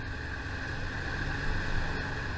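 A steady low engine drone rumbles on without a break, with a constant mechanical hum from a 50-year-old ferry underway.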